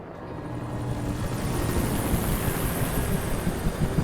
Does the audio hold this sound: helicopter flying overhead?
yes